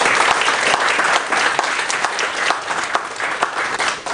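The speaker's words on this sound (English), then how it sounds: "Let's give them all another round of applause" Sustained audience applause at a climate change conference, dense and steady clapping from a full room lasting throughout without talk.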